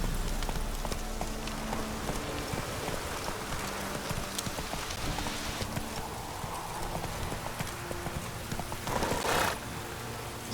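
A horse's hooves clip-clop at a steady rhythmic gait in The Witcher 3 video game, moderately close and continuous, mixed with a soft pattering of rain and ambient game sound.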